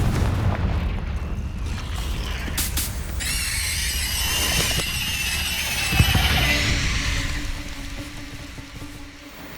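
A Confringo fire spell bursts in Hogwarts Legacy, a booming blast followed by bright crackling magical shimmer and a lingering whine that slowly fades out.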